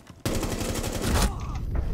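Shotgun fire from the Smoke operator in the tactical shooter Rainbow Six Siege sounds as a sudden loud blast and then a dense rattle of rapid shots and impacts. The burst is close and harsh and carries on for nearly two seconds.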